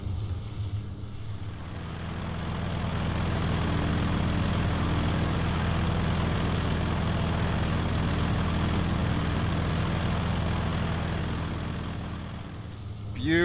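An F6F Hellcat propeller plane drones steadily through the flight in the FSX flight simulator, its engine a continuous low rumbling hum that swells and holds, with a voice speaking briefly at the end.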